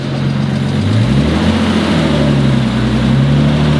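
A Nissan R32 Skyline engine runs loud and close right after its first start, the rough idle climbing as the throttle is blipped into a sustained higher rev.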